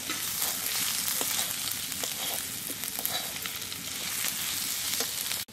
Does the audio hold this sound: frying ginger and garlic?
yes